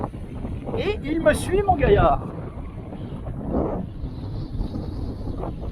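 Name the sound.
wind blowing on drone camera microphone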